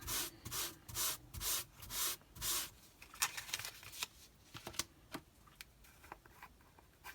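An embossing buddy rubs over a papercraft card panel in several slow, soft, scratchy strokes, then lighter taps and brushes follow. The sounds are close and quiet, with no talking.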